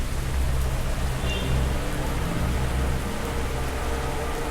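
Rain falling outside in the horror video game Mimicry, a steady dense hiss of downpour with no break, close and even.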